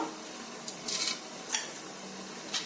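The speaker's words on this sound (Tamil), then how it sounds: "கடுகு பொரியட்டும் அவ்வளோதான் கடுகு பொரிஞ்சிருச்சு" Mustard seeds in hot oil in a kadai, a few scattered sharp pops and crackles over a faint, steady sizzle, fairly quiet and close.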